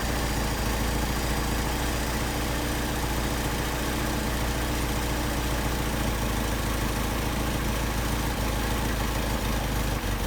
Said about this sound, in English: you should be able to hear the change in the RPM of the engine, speed of the engine